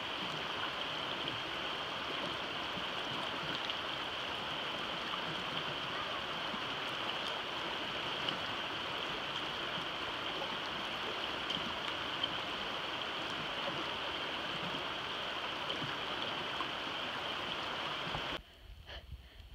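A cold, unbridged river on the Appalachian Trail rushes in a steady, close broadband wash that fills the scene without letup, cutting off abruptly near the end.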